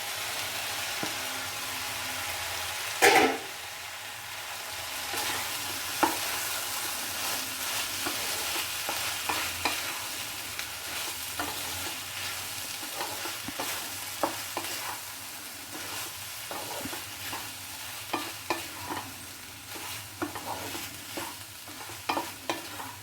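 Chopped chilli egg omelette pieces are stir-fried in a pan, with a continuous close sizzle broken by repeated scraping and tapping of a spatula against the pan, and no talking.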